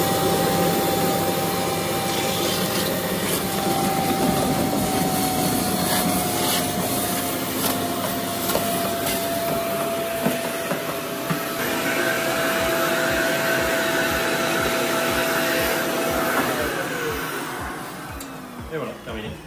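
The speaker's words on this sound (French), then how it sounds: "je vais venir aspirer tout le liquide pour rincer le tuyau, rincer mon appareil" An injector-extractor upholstery cleaner sucks up liquid to rinse its hose, a loud continuous suction whine with gurgling and rasping that runs steadily for most of the stretch before tapering off near the end.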